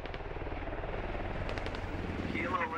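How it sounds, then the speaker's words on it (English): A helicopter in the SquadOps video game flies off during an exfil, its rotors thumping in a steady pulse that stays fairly close, while a voice briefly speaks near the end. "it looks like the helicopter is exfilling"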